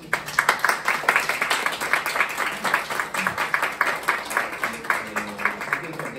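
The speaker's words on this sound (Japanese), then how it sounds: "改めて皆さん拍手を持って感謝を受け" Congregation clapping in a small church after a service, a rhythmic run of distinct, fairly close claps from a modest crowd, steady throughout with faint murmuring underneath.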